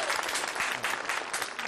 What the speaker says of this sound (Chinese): 好吧，来，掌声欢迎。